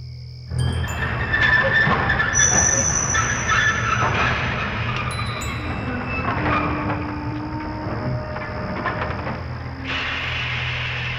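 A train rumbles past with a steady, loud roar and faint metallic squeals over a low hum.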